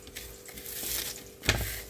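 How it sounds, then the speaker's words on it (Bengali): Crispy fried neem leaves crushed by hand, giving soft dry crinkling and crumbling rustles with a sharper crunch near the end, close and quiet. "তো নিম পাতাগুলো আমি ভেজে নিয়েছি, তো হাত দিয়ে এটা গুঁড়ো করে নিচ্ছি।"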